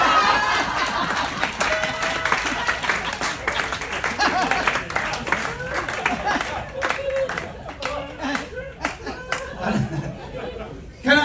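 A theatre audience at a comedy mentalist show aboard a cruise ship breaks into sustained applause, dense clapping with some chatter and laughter, tapering toward the end.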